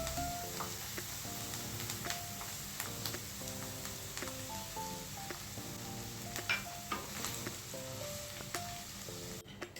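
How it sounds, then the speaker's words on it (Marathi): Mixed vegetables with chillies sautéing in a hot pan, a steady soft sizzle throughout with intermittent clinks and scrapes of a spoon stirring against the pan. "आता हे आपल्याला छान परतून घ्यायचं आहे"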